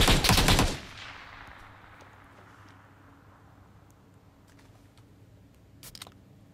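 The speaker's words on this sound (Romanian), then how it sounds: "Mamă, ce rafală! Ce rafală superbă!" A single loud, close automatic burst from a rifle in the video game PUBG New State opens, followed by a long fading echo and a couple of faint distant shots near the end.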